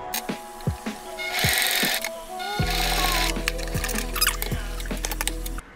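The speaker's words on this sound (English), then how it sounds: "So I'm going to try to sew this together a little bit." Sewing machine stitching fraying fabric for a tote bag, a close, steady mechanical whir running in two long stretches among handling clicks and thumps.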